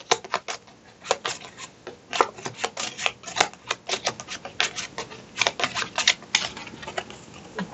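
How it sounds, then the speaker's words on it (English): A deck of cards for the DOOM board game (2016) is riffle-shuffled close by, making rapid, crisp fluttering clicks in several quick bursts with no talking. "And I'm going to shuffle."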